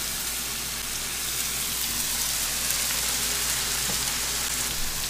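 Leeks and carrots sautéing in a pan, a dense, steady sizzle and crackle of frying that holds loud and even throughout without any talk.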